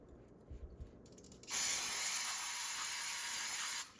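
Brake parts cleaner sprayed onto brake calipers: a single steady, loud aerosol hiss lasting a couple of seconds, starting abruptly after a few faint handling sounds and cutting off cleanly, close to the listener with no talking.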